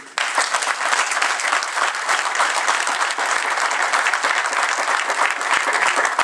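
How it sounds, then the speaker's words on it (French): A French-speaking political gathering about dialogue in Congo breaks into strong, continuous crowd applause, dense and even throughout with no pause. "On applaudit pour eux."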